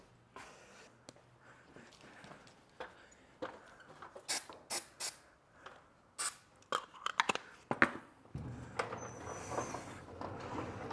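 A garage door runs on freshly lubricated rollers, giving a series of clattering, rattling mechanical bursts and knocks that settle into a smoother rolling rumble near the end, with no speech.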